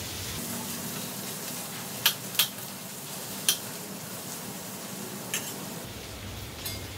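Paneer and soaked basmati rice with onions are stir-fried in a pan for matka biryani, giving a steady low sizzle with a few crisp spatula scrapes and taps against the pan, fairly quiet, with no talking.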